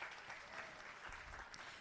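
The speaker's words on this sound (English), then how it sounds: "Love the round of applause for that" Applause from an audience at a museum space event, dense and steady but faint and distant, lasting under two seconds without speech.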